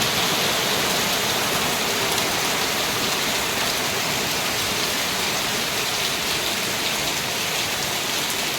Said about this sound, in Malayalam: രാവിലെ മുതലേ നല്ല മഴയാണ്